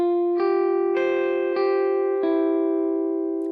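Electric guitar lick played clean with delay off, closing out a chorus of Holy Forever: four sustained chords struck roughly every half second, each ringing with bright harmonics and steady level, heard alone.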